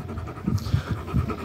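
A dog panting close by in quick, rhythmic breaths, loud and alone with no talking.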